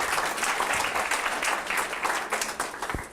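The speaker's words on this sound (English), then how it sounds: "I really like being clapped for before I talk." Audience applause at a lecture on pandemic influenza, a dense, steady wash of clapping filling the room throughout at moderate level, with no talk over it.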